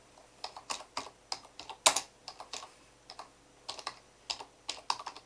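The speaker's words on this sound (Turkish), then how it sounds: "Büyük harfler yazdık" Close typing on a computer keyboard: a steady run of crisp, separate keystrokes in uneven rhythm, with one sharper, louder clack partway through and no voices.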